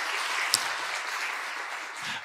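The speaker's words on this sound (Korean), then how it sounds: "그리고 은혜로운 간증 전해준 우리 김혜선 자매에게 박수로 다시 한번 감사합니다." Congregation at Ulsan Onyang Full Gospel Church applauds during a worship service, with even, continuous clapping from a sizeable crowd throughout.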